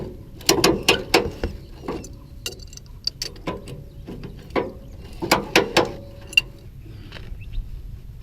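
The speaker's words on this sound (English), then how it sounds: "now we're going to go and ratchet it up" A ratchet strap is cranked tight on a tow dolly, producing loud, close clicking bursts in quick groups separated by short pauses as the handle is worked back and forth.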